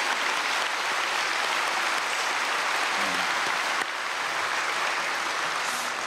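A church congregation applauds the choir during a Sunday service, a dense, even roar of clapping that holds steady for several seconds, loud and unbroken.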